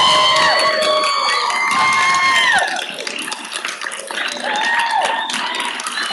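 An audience in the Memphis City Council chamber, during a vote on police reforms, shouts and cheers loudly, with raised voices and scattered clapping that dip briefly before swelling again.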